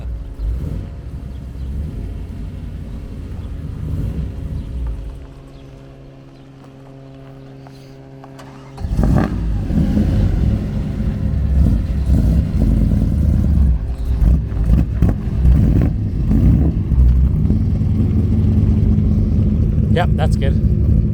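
A 1958 Chevrolet Impala with stainless fabricated headers and a custom 2.5-inch exhaust, its engine rumbling at idle and then revving louder with a steady deep roar, close by, under occasional talk.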